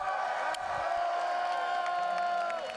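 Crowd at a Tekken 8 fighting-game tournament event cheering and whooping loudly and continuously, a dense wall of voices with scattered shouts throughout.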